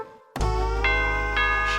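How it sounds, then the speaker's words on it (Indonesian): A doorbell rings indoors with a single bright, sustained electronic chime that starts abruptly after a brief silence and keeps ringing to the end. "Bel bunyi tuh, bukan pintu."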